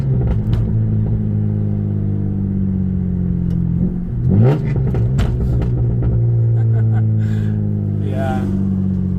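Straight-piped V6 truck with a 5-speed manual, idling loud and close with a deep, steady rumble and a few brief revs, while people talk over it.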